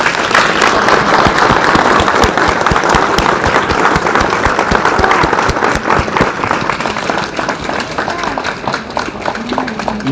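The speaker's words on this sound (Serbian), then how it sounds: "ja vas molim za jedan veliki aplauz za našu Aleksandru." Audience applause at a museum exhibition of Tesla and Pupin at the Historical Museum of Serbia, a dense, steady clapping from a crowd that runs the whole time and eases slightly toward the end.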